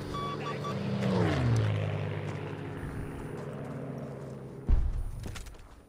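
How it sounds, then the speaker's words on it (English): Propeller aircraft in the Battlefield V video game sweep loudly overhead, a rising and falling engine drone that swells near the start, then settles into a steady rumble, with a sharp thump near the end. "Oh, right. Planes."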